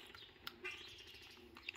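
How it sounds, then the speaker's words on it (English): Birds chirp outdoors in a few faint, brief calls scattered over a quiet, hissy background, with no talking. "your birds are awful chatty"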